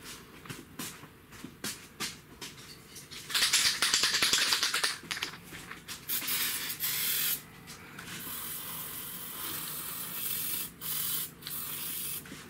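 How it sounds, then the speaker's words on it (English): Aerosol can of penetrating grease sprayed under a 2009 Mazda CX-9 during radiator work, several short hissing bursts and one longer spray, mixed with clicks and handling noises close by. "This is penetrating grease is what that was. And I actually sprayed some on the shift linkage as well while I was down there."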